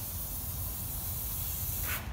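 Adhesive hisses steadily from an aerosol spray can while radiant barrier foil goes up inside a shipping container home build. The spray is close, loud and continuous for about two seconds, with no talking.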